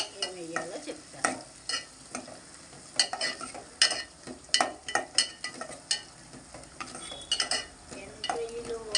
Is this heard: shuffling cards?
no